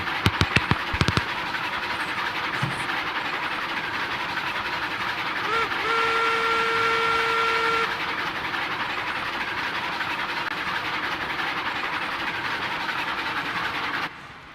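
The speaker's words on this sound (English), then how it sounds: "I like how faster the trains with the air brakes stop." A train with air brakes in Railroads Online rolls steadily along with rumbling wheels, a few sharp clanks at the start and a sustained whistle tone in the middle, fading out at the end.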